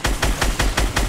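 Rapid gunfire in the Fortnite Battle Royale video game, six evenly spaced heavy shots in just over a second, punchy and close, with no talk over them.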